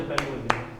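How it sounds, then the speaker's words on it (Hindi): Three sharp, separate claps during a language class in a Hindi-speaking classroom, sounding fairly close and evenly spaced, with a low murmur of talk underneath. "हाँ तो ताली बजा दो।"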